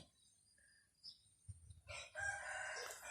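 A rooster crows once, fairly close, with faint farmyard noise before it.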